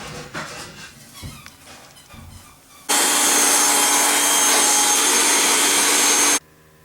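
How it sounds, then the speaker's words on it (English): Vacuum cleaning lint from inside an HE3 clothes dryer switches on abruptly after a few seconds of quiet handling noises, roars loud and steady for several seconds at close range, then cuts off. "We've got the inside vacuumed out."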